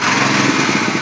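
A small power weeder engine runs loud and close with a buzzing, high-pitched drone held steady under throttle for about a second.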